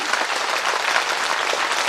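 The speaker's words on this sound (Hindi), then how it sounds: "तो एक बार जोरदार तालियों से सभी का अभिनंदन।" An audience at a Ram Katha religious gathering applauds steadily, with dense, continuous clapping that holds at an even level and has no voices over it.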